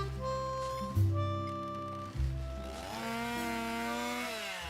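Petrol-powered chainsaw in a video game: a revving, buzzing engine with rising and falling pitch, two sharp throttle bursts, then a higher, steady whine as it winds up, alone and fairly clear.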